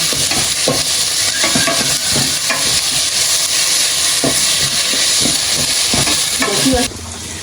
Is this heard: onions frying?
yes